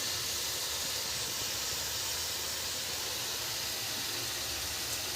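Masala roasting in a pan with tomatoes for a potato and pea curry gives a steady, even sizzling hiss that runs unbroken from start to finish, with no pauses or other sounds.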